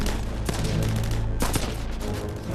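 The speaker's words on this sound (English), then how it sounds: "With the Crocodile tanks and infantry providing covering fire" Wartime gunfire from Crocodile tanks and infantry laying down covering fire, a dense rumbling barrage with a couple of sharper bursts standing out, loud and continuous with no talk.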